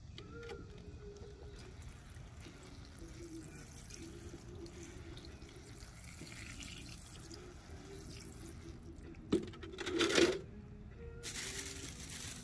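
Water trickles from a tap or watering can onto potted hydrangea cuttings, a soft steady running sound with a brief louder splash and clatter near the end, no speech.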